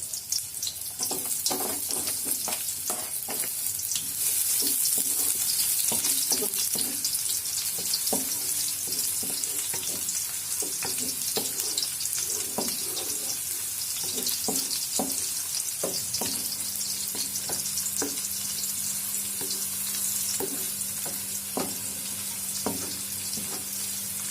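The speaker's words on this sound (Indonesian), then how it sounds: "Kita tumis bawang merah dan bawang putihnya dulu." Shallots and garlic sauté in hot oil in a pan for a Javanese vegetable dish, making a steady loud sizzle with intermittent stirring clicks and scrapes. A brief running-water sound comes in toward the end.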